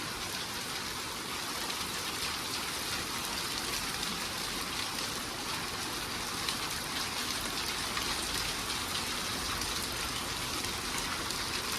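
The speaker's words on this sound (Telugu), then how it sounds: "ఇప్పుడే స్టార్ట్ అయింది వర్షం వచ్చేసి" Steady, even rainfall in Madanapalle hissing continuously, a soft uniform patter with no talking or other sounds over it.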